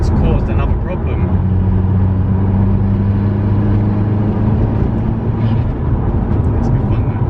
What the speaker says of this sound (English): You can't hear a word I'm saying because the car is being so loud right now.